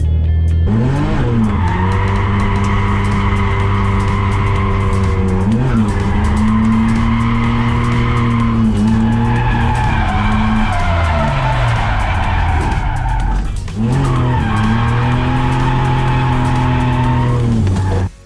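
A car driven hard around a race track, engine loud and sustained with gear-change dips, tires squealing and skidding through corners for the whole stretch, close and continuous.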